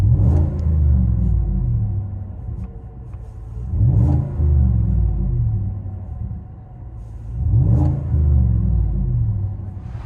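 A 2018 Chevy Tahoe RST with a 6.2L V8 and Black Widow Race Venom exhaust, heard from inside the cabin as a deep, loud rumble that swells with three revs.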